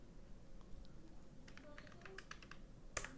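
Faint keyboard typing of a browser search on a computer, a quick burst of soft key clicks over low room hiss, ending in a sharper keystroke.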